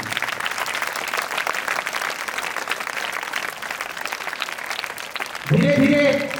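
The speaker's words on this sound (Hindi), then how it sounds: "इसके लिए भी एक बार तालियां बजा दी।" Audience applause at an annual prize distribution and cultural ceremony greets a photographer, a dense, even wash of clapping that carries on throughout, with a brief spoken voice near the end.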